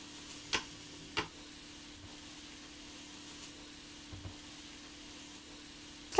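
Eggplant slices cook on a stovetop grill, giving a faint, steady sizzle broken by a few soft ticks and taps, with no talking.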